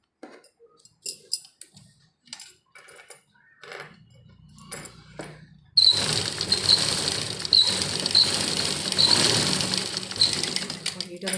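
A sewing machine stitches a puff sleeve, a steady fast whirring rattle that starts midway and runs loud and close to the end, with someone speaking over the earlier quiet part and continuing beneath the stitching.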